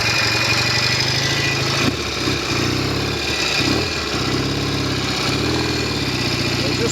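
A Norton Commando 750 motorcycle engine, troubled by tickover issues, idles steadily around 1,500 rpm: a loud, close, continuous low throb with even pulsing and a slight wobble in the beat, no talk over it.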